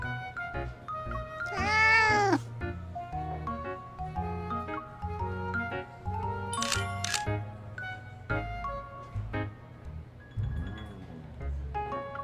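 Cartoon cats in the video game Love & DeepSpace meow repeatedly, with one long drawn-out meow followed by several shorter ones, mixed with light chiming game effects and soft background music.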